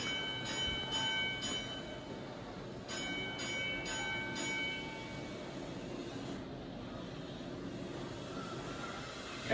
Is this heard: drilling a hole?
no